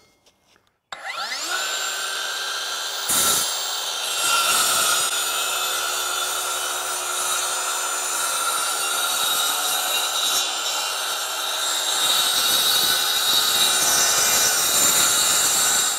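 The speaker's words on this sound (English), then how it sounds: "so now we're ready to install our battery and do our score cut." A Ridgid battery-powered track saw spins up and makes a long, steady score cut, a loud close whine with a continuous rasping blade tone, with no voices over it.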